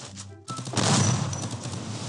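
Sustained burst of automatic gunfire in a shooter video game, loud and dense, rattling continuously for about two seconds after a brief lead-in.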